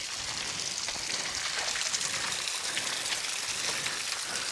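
Water runs steadily from a leaking water pipe along a narrow trail near a waterfall, a continuous close trickling and splashing hiss with no voices.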